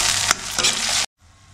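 Tomatoes tumble into onions already reddened in hot oil, giving a loud sizzling burst with stirring clatter for about a second before cutting off, then only a faint hiss remains.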